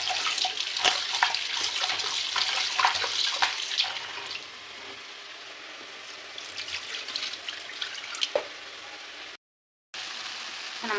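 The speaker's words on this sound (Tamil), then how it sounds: "இன்னொருக்கா நம்ம கழுவிட்டு நம்ம சிக்கன் சேர்த்துக்கலாம்" Raw chicken pieces being washed under running water in a home kitchen, a steady splashing tap flow with irregular clatter and spatter, close and fairly loud throughout, briefly cutting to silence near the end.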